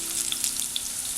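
Garlic, green chillies and curry leaves sizzle in hot oil in a pan for pickle, a steady bright crackle with small pops throughout, close and alone.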